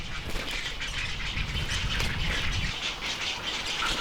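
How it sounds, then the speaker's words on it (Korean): Egrets and grey herons fighting over territory on an island in Paldang Lake give repeated harsh squawks and calls amid steady outdoor noise, with no voices. "백로와 외가리들이 영역 싸움을 하고 있다."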